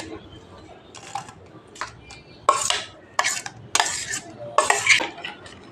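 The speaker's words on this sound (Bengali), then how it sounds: "নারকেল কোড়াটা দিয়ে দুধের সঙ্গে খুব ভালো করে মিশিয়ে নেব" A spoon stirs grated coconut into milk in a bowl while making coconut ice cream. The clinks and scrapes come in irregular, close bursts, growing louder in the second half.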